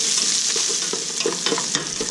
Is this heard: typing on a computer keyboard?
no